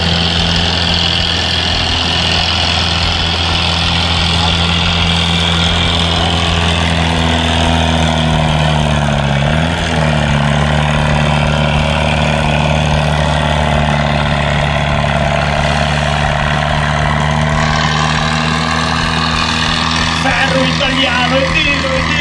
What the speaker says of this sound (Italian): Tiene ai piano questo rombo di pistoni con il numero 9 Dariol Valerio, seconda manche.